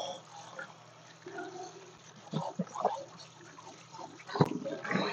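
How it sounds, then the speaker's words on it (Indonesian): Vegetables are washed one by one by hand under running water, with faint, quiet splashing and trickling broken by a few louder, irregular sloshes close by. "Cuci satu persatu sampai bersih pokoknya."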